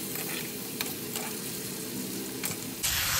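Boiled mutton is stirred with salt in a hot pan, a close sizzling hiss with scraping spoon strokes, ending in a sudden louder rush of noise.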